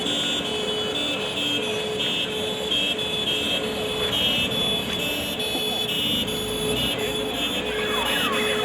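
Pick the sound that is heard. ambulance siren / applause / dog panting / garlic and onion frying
ambulance siren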